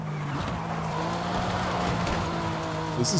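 A Porsche Cayman GT4 RS in Forza Horizon 5 holds a steady, droning engine note at speed, with faint tire noise and a brief sharp burst right at the end.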